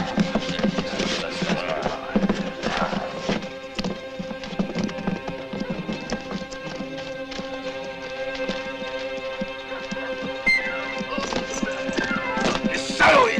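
Horses galloping in a western film, hoofbeats clattering rapidly and loudly over a bright orchestral score, with an occasional whinny and brief shouts mixed in.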